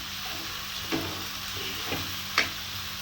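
Onions and tomatoes frying in a pan for a Chettinad-style egg chicken pepper fry, a steady low sizzle with a few stirring scrapes and light clinks spaced through it, close and fairly quiet.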